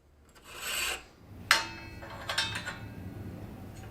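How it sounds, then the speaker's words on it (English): A bent steel bridge tube for a DIY mountain bike frame's monostay is hand filed to fit; one quiet rasping stroke is followed by a few sharp knocks and light scrapes, close by. "it takes a little hand filing to get the fit right"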